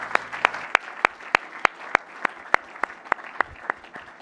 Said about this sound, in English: give a round of applause for all the winners this evening